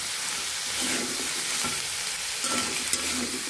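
Broad beans and rohu fish with salt, turmeric, chili and coriander powder are stir-fried in a pan, giving a steady, close sizzle with scraping stirs and a few soft clinks, no voices.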